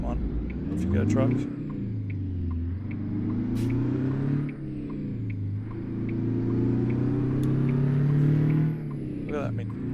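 A truck engine drones steadily in American Truck Simulator, rising and falling in pitch as the rig accelerates along the road, with a voice talking over the engine throughout.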